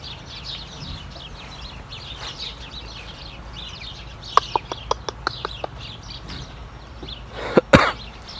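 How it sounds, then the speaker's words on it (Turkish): Chickens cluck softly in a village yard while being fed, followed by a quick run of sharp, evenly spaced clucks and a louder squawk near the end. "Tavuklara verdim yemi de doymadı."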